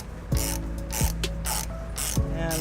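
Hand ratchet with an 18mm socket turning a hitch bolt on a 2008 Toyota RAV4, three quick bursts of sharp clicking close up, each with a brief squeak, with no talk.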